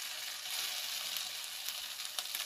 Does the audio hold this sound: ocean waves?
no